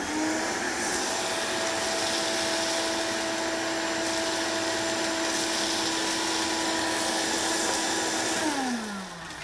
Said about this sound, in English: hook the vacuum up to the wand, flip on the power, and it automatically sweeps it up